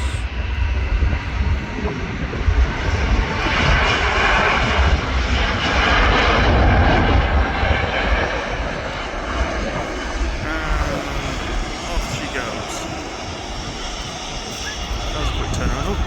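An Airbus A350 jet airliner taking off at Manchester Airport, its engines building to a loud, sustained roar that peaks and then slowly recedes into the distance, with someone talking over it.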